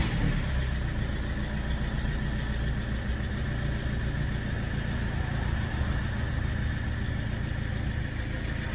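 A Ford Fiesta engine idles steadily and close by, a constant low rumble with mechanical vibration holding through the whole stretch and no voices.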